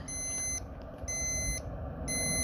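Alarm of a ThermPro remote meat thermometer during beer can chicken cooking: three bursts of rapid high-pitched electronic beeping, evenly spaced, over a steady background hum outdoors.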